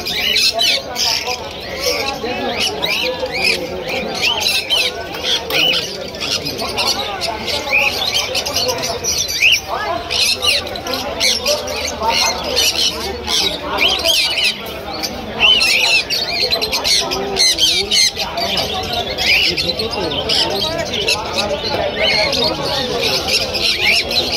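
Pigeons and cockatiels at a busy bird market in Krishnagar, with constant loud squawking, chirping and cooing from many caged birds close by, mixed with crowd chatter and people talking throughout.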